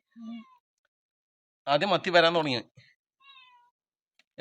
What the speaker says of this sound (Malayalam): പൂച്ച കരയുന്നുണ്ടേ